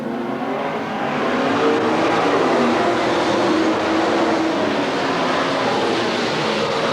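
A pack of race cars roars off under the green flag at Willamette Speedway in 1991, a dense, loud, sustained engine drone from many cars at once with no voices over it.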